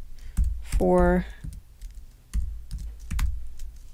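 Keys clatter on a computer keyboard in short bursts of typing and clicks, close by, with a voice speaking between them.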